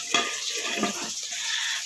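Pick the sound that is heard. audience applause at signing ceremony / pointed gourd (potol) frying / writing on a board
pointed gourd (potol) frying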